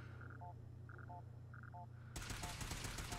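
Gunfire in the video game Fallout 4 bursts in suddenly partway through as a dense, loud rattle of shots, preceded by repeating electronic beeps over a steady game hum.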